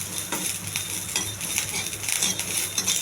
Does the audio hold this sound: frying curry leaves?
yes